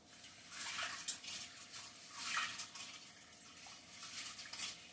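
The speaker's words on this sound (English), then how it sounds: "I'm just gonna wash my peas and put it on to boil" Peas are washed in water in a home kitchen, giving a soft, continuous splashing and swishing with a few small surges, faint and close with no voices.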